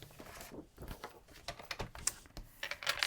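Card being cut for a glittery greeting card craft project, giving a quiet run of small crisp snips and clicks with uneven rhythm, close up and alone with no talking.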